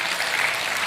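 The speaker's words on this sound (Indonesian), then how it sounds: "Iya, tepuk tangan." A church congregation breaks into a short burst of dense, steady applause during a sermon, with no pause or gap.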